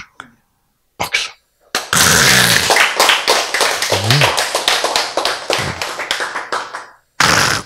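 A lecture audience bursts into sustained hand clapping that lasts several seconds, loud and close, then stops abruptly, with a few stray claps before it and brief voices mixed in.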